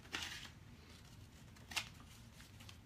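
Scissors cut through laminated pages in a quiet room, with two faint, crisp snipping strokes spaced more than a second apart over soft background noise.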